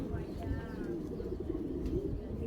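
Giribaz tournament pigeons coo in low, rolling murmurs close by, steady beneath someone speaking over them.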